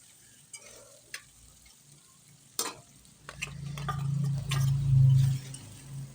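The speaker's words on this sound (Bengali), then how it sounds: "জল দিয়ে এটাকে ভালোভাবে কষিয়ে নেব।" Goat stomach and liver curry cooking in a pan with a little water added, a soft bubbling sizzle that swells midway and stays close, with scattered clicks of a spoon or pot before it.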